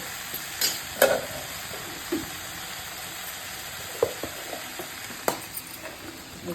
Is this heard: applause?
no